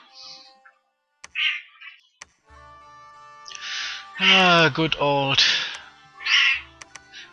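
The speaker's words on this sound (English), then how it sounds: "man, I hope you aren't hearing my cat right now." A domestic cat meows loudly and close by, several drawn-out cries in a row, and someone talks between and over them.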